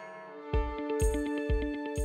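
The Iowa State carillon bells ring out at an honors and awards ceremony, with a quick rhythmic sequence of clear, resonant strikes whose tones ring on and overlap, sounding alone without talk.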